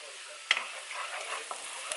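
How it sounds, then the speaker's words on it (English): Chopped onion sautés in a pan before rice goes in, a soft continuous sizzle with one sharp utensil click near the start and a few lighter taps, fairly faint and close, no voices. "I'm going to saute it before adding the rice"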